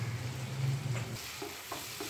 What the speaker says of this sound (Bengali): মশলাটা খুব ভালোভাবে কষা হয়ে গেলে